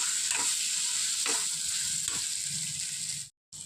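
Ground paste for bitter gourd curry frying and being stirred in a pan, a continuous sizzle with periodic scraping strokes of the spatula, close and steady, breaking off briefly near the end.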